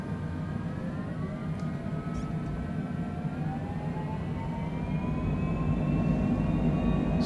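Aircraft engine rising steadily as it spools up for takeoff on runway 27 at Key West, a continuous loud drone with climbing tones and no talk over it.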